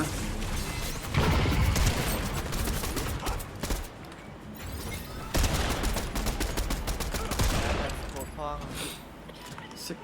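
Rapid video game gunfire crackles in dense bursts, loud automatic volleys that pause and resume several times, with a player talking over the shooting.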